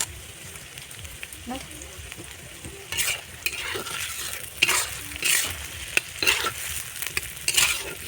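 Onion with ginger-garlic paste, chilli paste and spices sautéing in an iron kadai for chicken kosha, a steady close sizzle with bursts of spatula scraping and stirring that grow louder midway; no talking.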